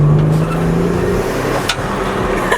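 A twin-turbo Nissan 300ZX accelerates hard under boost, its engine a loud, close, steady roar with rising pitch and a brief sharp hiss partway through.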